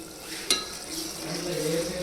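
Spinach curry being stirred in a pan after ground coriander powder goes in, a soft continuous sizzle with scraping strokes and one sharp utensil clink near the start.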